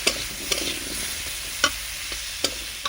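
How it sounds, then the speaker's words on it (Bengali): Small cut potato pieces with salt and turmeric sizzle and fry in a pan, a steady crackle broken by several sharp scraping stirs, close and fairly quiet. "ভালো করে লাল লাল করে আলুগুলো ভেজে নেব"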